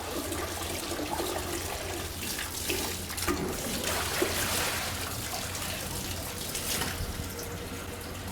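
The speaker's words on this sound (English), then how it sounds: "So I'm rinsing this really good, and I'm cooling it down." Steady running water from a kitchen tap pours over food being rinsed and cooled in a strainer, a continuous broadband splashing rush with slight fluctuations and no talking.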